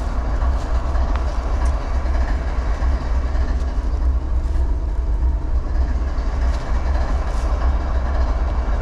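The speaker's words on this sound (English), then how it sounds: "here it comes. M409 westbound." CSX freight train M409 runs westbound along the Lehigh line, a loud, steady roar of rolling wagons and rail noise with faint clicks, holding close and even for the whole stretch.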